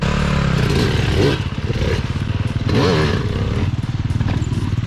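A motocross motorcycle on a track in Spain revs hard and close, its engine note rising and dropping in short bursts. Clattering, scraping mechanical noise runs through the passes.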